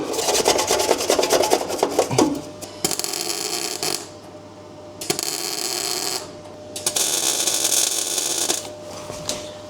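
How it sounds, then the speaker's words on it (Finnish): Zinc coating is ground off the body metal of a Mercedes-Benz 280SE W108 before welding, a loud close abrasive rasp in several long passes broken by short pauses. "Vähän tuota sinkkiä pois."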